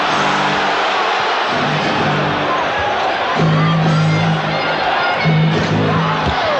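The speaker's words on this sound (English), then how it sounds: "Crowd looking for the travel." Basketball arena crowd at the 1990 NBA Finals Game 5, Bulls versus Lakers, roaring and shouting steadily in a loud, dense wash, with a commentator talking over it.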